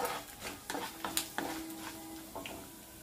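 Mustard seeds, cumin, urad dal and chana dal tempering in hot oil for vegetable vermicelli upma, giving a soft sizzle with small pops and a few clinks of a stirring spoon against the pan.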